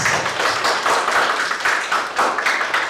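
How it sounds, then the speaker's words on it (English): An audience at a lower secondary school debate championship claps for the judges, a steady patter of hands filling the hall for a few seconds. "Please give them a round of applause"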